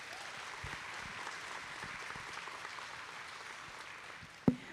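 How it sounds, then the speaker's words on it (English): A school district audience gives a sustained round of applause at a state-of-the-district event, steady and even throughout, ending with a sharp close thump. "Let's give Judy a big round of applause."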